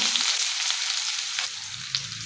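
Finely chopped onion hits hot oil with bloomed cumin and mustard seeds, giving a steady, loud broadband sizzle throughout with a couple of brief crackling pops near the end.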